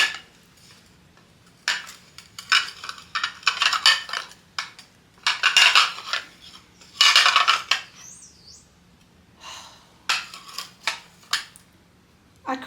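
Ceramic saucers handled in a garage, with irregular bursts of clinking and scraping as dishes are stacked and moved, close and fairly loud, separated by quiet pauses.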